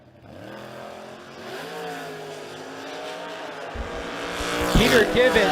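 Two drag racers, a 98 Dakota and a Camaro, launch side by side at the strip, engines building from a steady rumble to a loud surge of revving with tire squeal near the end, while an announcer talks over it.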